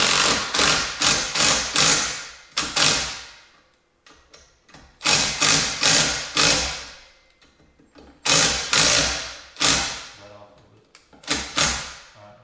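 A power drill drives 3-inch screws into white oak stair treads in several bursts, each a rising whir that bites in and stops, with short pauses and handling noise in between.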